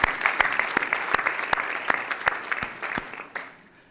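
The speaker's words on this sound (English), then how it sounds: "I think we should give them a round of applause." A conference audience applauds in a short burst of close, crisp clapping that tapers off within a few seconds.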